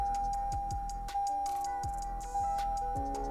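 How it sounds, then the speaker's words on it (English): Steady electronic beeping from a Toyota RAV4 during installation of a Dasaita Android car stereo, a sustained tone with repeated short pulses heard up close inside the car, with no talking. "Sorry about the beeping sound"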